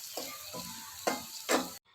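Beans and carrots sautéing in a pan for vermicelli upma, a steady close sizzle of frying vegetables broken by several scraping stirs of the spoon, with no talking.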